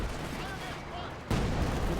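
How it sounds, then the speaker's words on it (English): Artillery barrage from ZiS guns in Company of Heroes, a continuous rumbling roar of game gunfire and blasts that swells louder about two-thirds of the way through, with a voice talking over it. "machine gun's forced away by the Zis barrage"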